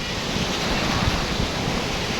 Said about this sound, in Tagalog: Ayan! You see? Ang ganda ng mga alon.